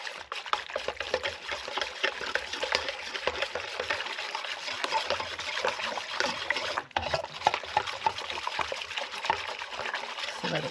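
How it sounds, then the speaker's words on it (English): Sourdough ingredients being stirred into water by hand, a steady close scraping and swishing of liquid that carries on without a break, with some faint background noise and no clear talk. "I'm just going to stir this up so that it's incorporated into the water"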